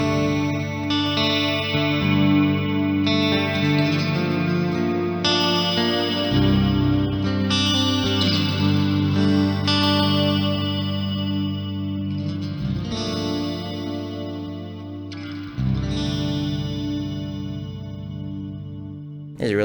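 Clean electric guitar chords and notes ring out continuously, washed in echoing delay and reverb, with no voices.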